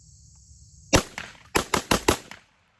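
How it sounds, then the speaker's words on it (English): Five or six rapid, loud pistol shots from a new handgun with a ratcheting compensator, fired fast at a gun range, one isolated shot then a quick tight cluster, close to the microphone over a faint steady background hum. "We'll fire another 5 as quick as we can this time."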